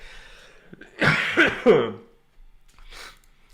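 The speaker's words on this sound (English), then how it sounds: "I knew I was going to cough at least once" A person coughs, a short harsh burst of two or three hacks close up, followed by a quieter breath or throat sound.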